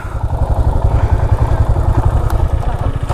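A motorcycle on a long-distance ride idles up close with a rapid, even, throbbing engine pulse as the bike comes to a stop. It plays alone, with no talk.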